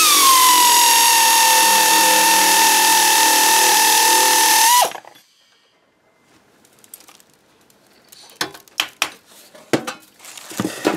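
A Lidl pneumatic nibbler cuts 0.5mm galvanized steel sheet with a loud, steady high-pitched whine for about five seconds, then stops abruptly. A few sharp metallic clanks and knocks follow.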